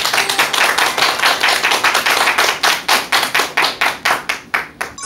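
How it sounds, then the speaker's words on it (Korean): Loud, dense clapping fills the room as a lecture audience welcomes a speaker at a talk on persuasion. The applause pulses in rhythmic, regular waves, close and sustained throughout. "큰 박수 부탁드립니다"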